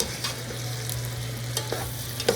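Curry is stirred in a pot over high heat, with a steady background sizzle and a few brief scraping strokes of a spoon, close and moderately loud, no talking.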